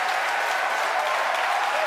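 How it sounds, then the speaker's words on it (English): A crowd cheers and applauds steadily at Falcon Heavy side booster separation during a SpaceX launch broadcast, a dense, continuous roar of clapping and voices filling the whole moment, loud and sustained with no pauses. "if you can hear me over the cheering."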